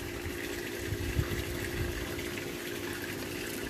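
Water holding newly arrived aquaponics fish, sloshing steadily inside a container as it is shaken, a continuous close-up liquid churn with no voices.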